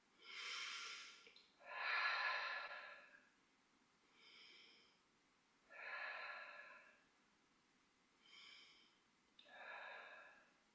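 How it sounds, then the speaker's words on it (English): During a Kundalini yoga practice, a person breathes deeply in through the nose and out through the mouth, with about six close, distinct breaths separated by short quiet pauses. "Breathing in through your nose and out through your mouth."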